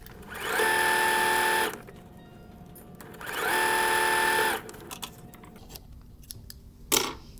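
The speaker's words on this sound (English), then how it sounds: "I'm going to sew those down." A sewing machine stitches quilt squares in two steady bursts of rapid, whirring mechanical hum, each about a second long, close and clear, followed by quieter handling sounds and a short click.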